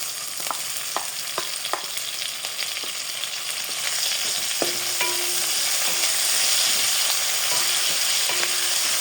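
Onions and leftover adobo frying in a pan: a constant bright sizzle close up, with occasional spatula clicks and scrapes, slightly louder in the second half, and no talking.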